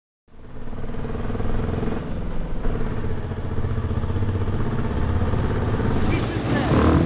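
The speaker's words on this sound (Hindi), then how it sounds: "अरे भैया बाइक है, कोनो जंबो जेट नहीं है जो ऐसे चला रहे हैं" A motorcycle ridden recklessly runs with a steady, close, rattling engine drone that holds throughout with small surges, while voices sound faintly in the background.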